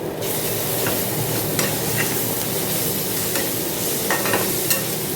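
Ginger garlic paste frying with onions in a pan for fish curry, giving a loud, dense, continuous sizzle with a few faint stirring scrapes and no talking.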